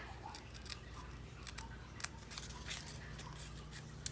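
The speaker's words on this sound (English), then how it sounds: "we're gonna cut along her shirt, and then we're gonna cut along her jawline" Quiet, close snips of scissors cutting a magazine picture for a collage, irregular little crisp clicks spread over a low background hum.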